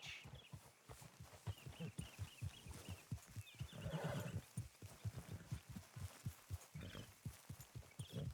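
Rhythmic hoofbeats of a galloping horse pound steadily, with a horse neighing briefly midway; fairly quiet overall. From the video game Red Dead Redemption 2.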